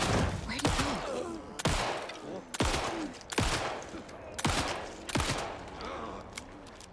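Gunfire in the video game Alan Wake, a series of sharp, loud shots spaced about a second apart, each with a short ringing tail, with faint voices beneath.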